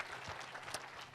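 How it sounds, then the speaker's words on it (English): Congregation applause at a Sunday church service, a dense wash of clapping from many hands filling the whole moment without a clear break, fairly steady and moderately loud with no voices on top. "y'all can clap for her"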